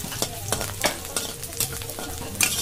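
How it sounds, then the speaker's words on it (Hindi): Chopped onions fry in a pan while being stirred, a steady close sizzle broken by repeated scraping strokes of a spoon, with no talking. "प्याज को हल्का सा सुनहरा होने तक हम भूनेंगे"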